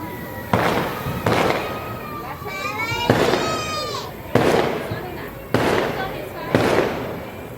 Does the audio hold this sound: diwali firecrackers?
yes